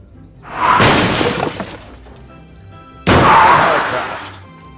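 Two loud crashes from a Thomas the Tank Engine train in the Roblox game Sodor Online, each a sudden smashing, shattering impact that rings out and fades, the second following a brief quieter gap.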